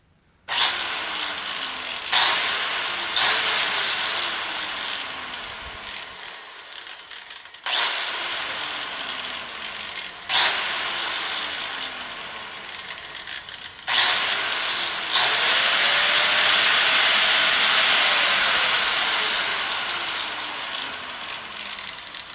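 A Bauer angle grinder from Harbor Freight spins up and runs in several bursts, each loud whine starting abruptly and winding down, with a longer sustained run near the end and no talking.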